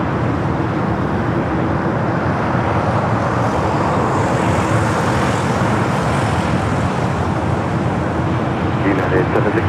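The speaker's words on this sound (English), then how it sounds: "That United flight just taken off, heading to Vancouver, flight 2318" A United Airlines jet departs LAX bound for Vancouver, its broad engine roar holding steady and loud for the whole stretch over distant road traffic.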